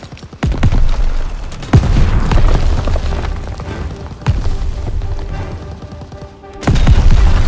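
Booming explosions of ammunition reserves and bursts of gunfire from the Call of Duty WWII game hit loud and close, with several heavy blasts a few seconds apart and dense fire running between them.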